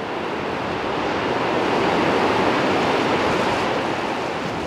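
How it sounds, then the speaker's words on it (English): Excess water from the Winnipeg River rushing through a dam spillway at historically high levels, a loud, steady broadband roar that stays constant throughout with no voices. "The spillway diverts the excess water that can't be used to generate electricity through the powerhouse."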